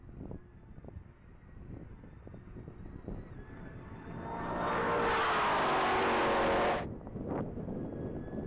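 An orange 2023 Chevrolet Camaro at a top-speed mile race roars past, its engine note swelling to a loud, sustained high-speed howl with wind rush before cutting off abruptly and fading.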